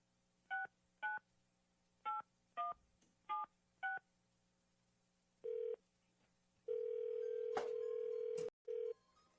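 A telephone number is dialed on a keypad, eleven short touch-tone beeps in an uneven rhythm, followed by a long steady ringback tone and one brief final beep. The phone is close and there is no talking.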